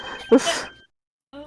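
One sudden, sharp human sneeze bursts out nearby, followed by a short breathy trailing exhale, a pause, and then a voice starting to speak.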